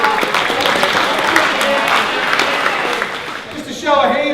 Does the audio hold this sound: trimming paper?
no